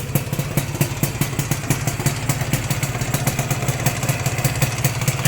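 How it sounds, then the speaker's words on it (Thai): A Yamaha VR-TZR motorcycle engine idles steadily with a fast, even ticking beat and light mechanical clatter, heard up close without voices. "เครื่องยนต์ก็จะประมาณนี้นะครับ เดินเบานี่เงียบอยู่"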